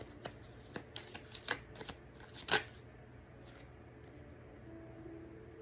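Tarot cards are shuffled close by in a quiet room. Several quick, crisp riffling bursts come in the first half, then the sound fades to a soft, near-silent stretch.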